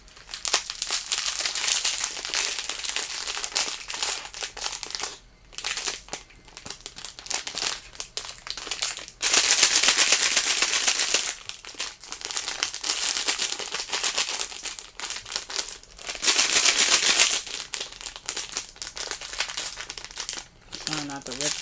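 Crinkly plastic packaging of a Bearbrick figure is unwrapped close up in repeated bursts of crackling and rustling, with a person talking in between.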